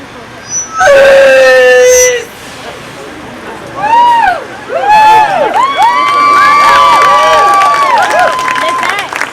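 A crowd at a Park Slope rally lets out a loud group yell called the yell of the spirit, a long sustained wail in several bursts, with voices rising and falling together.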